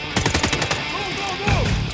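Gunfire in an action film during a shootout between a crime gang and a retired special agent: several sharp rapid bursts at the start, then a lower rumbling blast, fairly close and loud.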